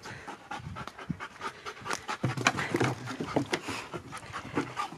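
A dog pants steadily in rapid, close breaths, with a few faint whimpers mixed in and no talking over it.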